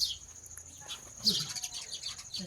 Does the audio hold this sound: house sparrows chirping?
yes